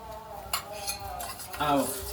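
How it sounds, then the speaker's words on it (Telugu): A spoon stirs a coconut-water mixture in a metal vessel during a temple ritual, giving light clinks and scrapes, then a louder clatter near the end. "దాన్ని స్పూన్ పెట్టి ఇప్పుడు అన్నీ కలిపి కలపండి"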